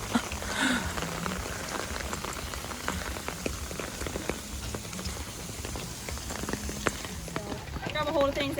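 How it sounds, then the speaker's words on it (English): Steady heavy rain pours and patters on surfaces at Charles Towne Landing State Historic Site, a constant wash of drops with faint voices in the background. "it's still pouring down rain."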